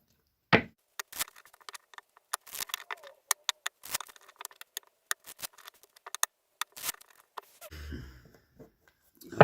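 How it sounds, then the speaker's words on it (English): Large stack of tarot and oracle cards being shuffled by hand, giving irregular bursts of papery slaps and riffles, close and fairly quiet, with short pauses between bursts and a rustling handling sound near the end. "continue shuffling the cards for a while, just to give them a good cleanse"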